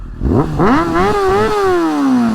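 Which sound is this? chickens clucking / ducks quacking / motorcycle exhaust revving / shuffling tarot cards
motorcycle exhaust revving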